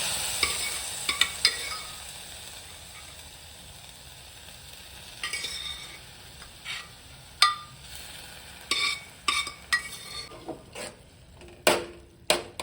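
Soft, steady sizzling of cooked carrots frying in ghee in a kadhai, with a spoon scraping and clinking against the pan now and then.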